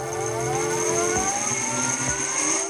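A Bolt electric motorbike accelerates as the throttle is twisted, its motor giving a steady, loud, high-pitched electric whine with layered tones that holds throughout.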